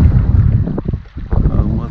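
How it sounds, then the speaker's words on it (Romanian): Wind gusts buffet the microphone by the Prut river, a low rumbling roar with brief lulls across the short stretch. "A început și vântul."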